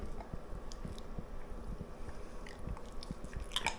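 A dog chews and swallows a deworming tablet, giving soft, close, repeated crunching bites in a steady rhythm, quiet and without talk.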